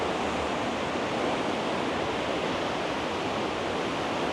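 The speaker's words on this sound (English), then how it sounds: "Can you hear the water? It's getting louder and louder and louder." Loud, broadband roar of rushing water from a waterfall in Johnston Canyon, Banff National Park, dense and unbroken, pounding steadily nearby with no voices.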